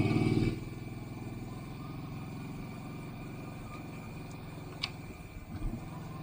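A Kawasaki Brute Force 750 engine runs steadily on a trail ride, a loud low throb at the start that settles into a continuous mid-level drone with small clatters near the end.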